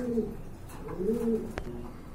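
Pigeons coo in low, rolling bursts, two or three soft throaty calls close by, with a brief sharp knock near the end.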